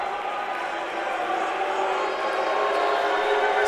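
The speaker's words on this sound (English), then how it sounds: "Crowd getting loud, hoping for a miss" A home crowd at a men's college basketball game against Mount Union roars steadily and builds louder during a free throw, a dense, sustained wall of voices filling the gym.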